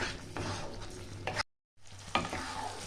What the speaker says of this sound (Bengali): ভালো করে একটু আমি কষিয়ে নেব যতক্ষণ না তেলটা ছেড়ে যায়